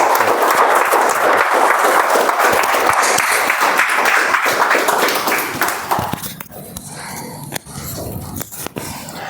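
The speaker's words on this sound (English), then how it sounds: "I would request everyone to give a huge round of applause and warm welcome to our contest chair, Toastmaster Srivastava Ji." Members at a Toastmasters speech evaluation contest welcome the contest chair with loud, close applause for about six seconds, which then thins to a few scattered claps and room noise.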